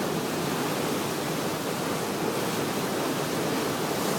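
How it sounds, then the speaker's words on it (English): A big waterfall near the harbour at Milford roars as a steady, broadband rush of falling water, unbroken and fairly loud throughout, with no voices. "Big waterfall we seen when we left the harbour."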